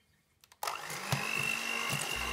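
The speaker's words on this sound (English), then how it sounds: "You add an egg and beat well." An electric mixer beats an egg into sticky date pudding batter. After a couple of clicks it starts up with a steady, close whir and a few bumps against the bowl.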